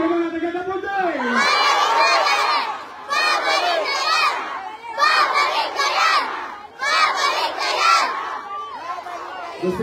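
A large campaign rally crowd in Manila shouts back in loud unison, several bursts of massed cheering and chanting voices separated by short lulls.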